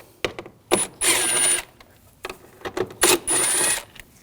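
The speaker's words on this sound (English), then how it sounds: "We're going to take these two bolts out, use a T25 socket." A ratchet turning a T25 socket to back out bolts on a 2006-2009 Audi S4 4.2L V8, heard as two long bursts of rapid clicking with short ticks between, close up and without talk.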